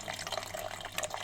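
Water running from a tap into a container, a short, soft, gurgling trickle heard faintly and close, with no talk.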